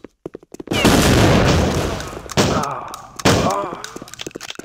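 Gunfire in a first-person shooter video game: a dense, loud burst of automatic shots lasting about a second and a half, followed by two more sharp volleys, with short crisp pops at the start.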